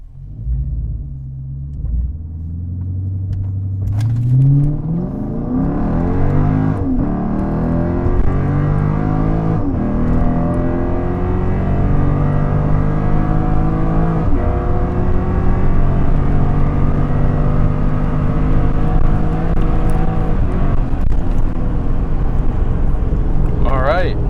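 A supercharged Lexus IS 350 engine roars and climbs through the revs under hard uphill acceleration, with gear shifts and a steady loud rumble throughout.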